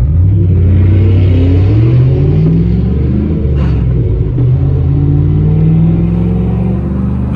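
A Cadillac Escalade V's engine revs up loud and close, a deep rumbling roar that climbs and swells steadily with no talk over it.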